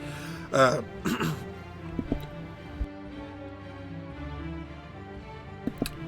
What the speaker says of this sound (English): I got like really bad dry cough.